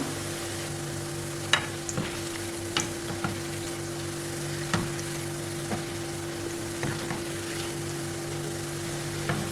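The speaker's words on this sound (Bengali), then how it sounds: "প্রায় দুই মিনিটের মতো ভেজে উঠিয়ে ফেলবো বেশিক্ষণ ভাজবো না" Chhana sweets fry in hot oil with a steady, close sizzle, punctuated by occasional soft clinks and stirring taps.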